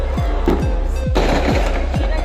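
New Year fireworks bursting in a rapid series of sharp cracks, about six or seven blasts in just over two seconds, loud and steady like machine-gun fire, with no talk over them.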